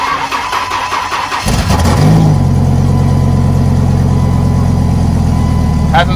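A Dodge 2500 long-bed truck's V10 engine, unstarted for months and with about 76,778 miles, cranks briefly, catches and settles into a loud, steady, close-up idle.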